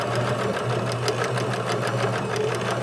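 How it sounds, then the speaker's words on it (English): Sewing machine running continuously while understitching a skirt facing, a close, even mechanical whir with a rapid regular needle beat and no talking. "And sew all the way around until you get to the end."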